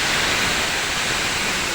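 Water pours onto toasted vermicelli in a pot with a dense, even rushing hiss that holds loud and steady for its brief length, with no other sounds.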